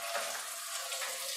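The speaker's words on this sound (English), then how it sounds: "So the first thing that I always do is I put some hot water in the pan" Hot water runs steadily from a tap into a pan in a kitchen, a continuous hissing splash heard alone for over a second.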